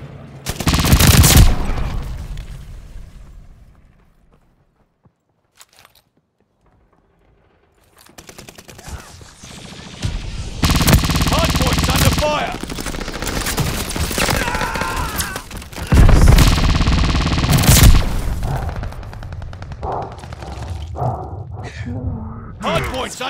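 Heavy gunfire at the hardpoint in Call of Duty: Vanguard, loud machine-gun bursts and booms that stop for a near-silent pause, then return in long sustained volleys, with game voices calling out at times.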